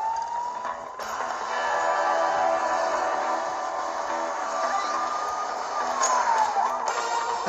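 A police siren from the Lego City Undercover video game wails in a steady, sweeping tone over a dense background of game engine and traffic sound, loud and continuous throughout with no talk.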